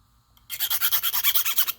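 A hand file rasps metal for a CO2 car axle in a quick series of about a dozen rhythmic, close, fairly loud strokes after a brief quiet start.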